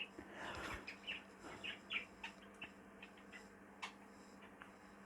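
Faint, scattered chirps and tweets from a small show team of cage birds held in stock cages, with short calls spaced irregularly across a quiet indoor room.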